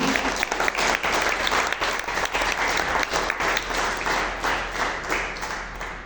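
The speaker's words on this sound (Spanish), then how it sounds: "Dale una ofrenda de palmas a Jesús" A church congregation at a Spanish-language worship service applauds loudly and steadily, a dense wash of many hands clapping at once that continues for the whole stretch with no pause.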